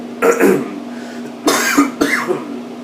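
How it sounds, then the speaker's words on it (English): Three separate coughs, the first a double cough, spaced apart with quiet between them, close and fairly loud. "Still have a little bit of a cough left"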